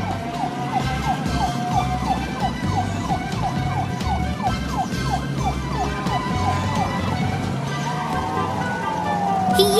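A cartoon ambulance siren wails in a rapid repeating up-and-down pattern, steady and prominent over a driving car rumble, running throughout without talk.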